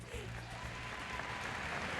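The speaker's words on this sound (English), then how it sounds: "Let's give them a round of applause first" Applause from a pageant audience for the Miss World 2009 contestants, a soft steady wash of clapping that continues throughout.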